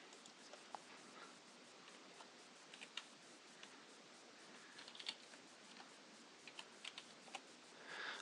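Password being typed on a computer keyboard, a quiet, steady stream of light clicking keystrokes with occasional slightly louder taps, close and faint with no speech.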